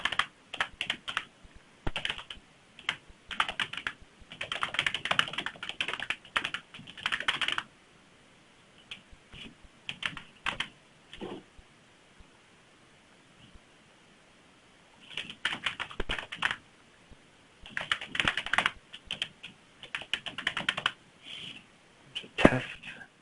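Rapid clattering keystrokes on a computer keyboard while entering an Oracle database connection string, coming in bursts separated by quiet pauses, close and fairly soft, with no talking.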